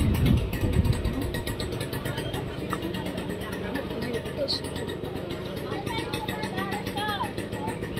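A scooter engine idles at a steady low rumble close by on a street, while people talk over it and faint traffic noise fills the background.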